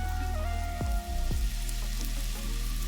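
Mushroom chicken salad ingredients fry over a full high flame, a steady loud sizzle broken by a couple of scraping stirs with clinks from the pan, with no talking.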